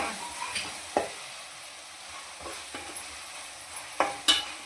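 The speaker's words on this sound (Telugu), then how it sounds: "ఇప్పుడు ఇందులో టమాటాలు వేసేసుకుందాం రెండు టమాటాలు ముక్కలుగా కోసి పెట్టుకొని వేసుకుంటున్నాం" Chopped tomatoes go into frying onions in a pan for a Telugu boti curry, giving a soft, steady sizzle close up, with a few sharp clinks from stirring.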